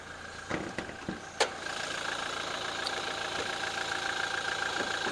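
A Toyota Revo pickup's 2.8 Super GD diesel engine idles steadily and close by, a continuous rumbling hum with a couple of faint clicks near the start.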